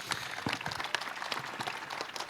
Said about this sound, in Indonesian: Tepuk tangan Suparman Marzuki.